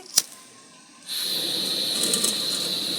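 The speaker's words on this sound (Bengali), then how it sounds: "এবারে গ্যাসটা ধরাচ্ছি" A short click, then a burner catching with a sudden steady whoosh of gas flame that keeps roaring close by.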